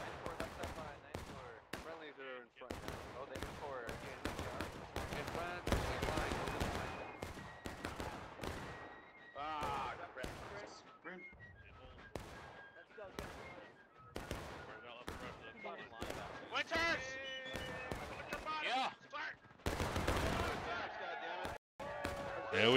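Musket volleys and artillery fire in the video game War of Rights, a large battle on Bolivar Heights, heard as a dense run of sharp cracks and booms at mixed distances, under someone talking.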